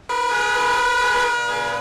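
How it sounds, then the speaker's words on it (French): Car horns from an art installation denouncing noise pollution in Africa, shown at the Dak'Art 2012 biennale in Dakar, blare in one loud, sustained, steady chord of overlapping tones lasting nearly two seconds. "Il a fait sensation avec une œuvre faite de klaxons dénonçant la pollution sonore en Afrique."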